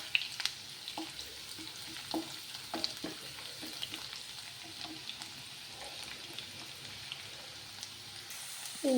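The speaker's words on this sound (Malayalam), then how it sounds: "ആദ്യം നമ്മൾ ഇഞ്ചി വെളുത്തുള്ളി നല്ലോണം പച്ചമുളകൊന്ന് മാറ്റാം." Ginger, garlic and green chili frying in a pan, a soft, steady crackling sizzle with scattered small pops, faint and continuous, with no voices.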